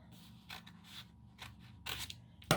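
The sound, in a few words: cutting paper for a collage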